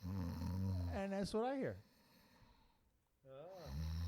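A man imitates snoring with his voice, giving loud nasal snorts and rasping inhales, then a short quiet pause before another snore, with brief speech.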